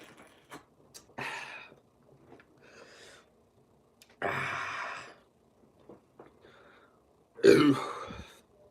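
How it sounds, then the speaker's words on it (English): A person burps after chugging a drink, a few short throaty bursts spaced apart with breathing and small mouth noises between them, close to the microphone and with no talk. "I burp every sip."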